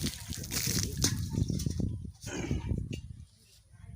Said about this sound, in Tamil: அறுபது அடியிலேருந்து தண்ணி ஆரம்பிக்குது